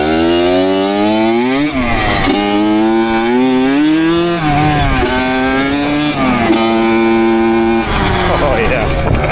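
A Honda CR85 two-stroke dirt bike, freshly rebuilt, revving hard into its power band on a first ride, a loud, close, high-pitched engine wail rising and falling through gear changes, with brief dips between pulls.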